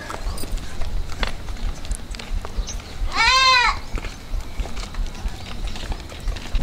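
A goat on a village farm lets out one wavering, fairly loud bleat over a steady outdoor background of rustling and footsteps, with other livestock sounds faintly around it.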